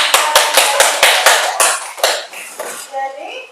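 Schoolchildren in a classroom clap in quick bursts of applause, loud and close, fading into scattered claps and a few young voices near the end.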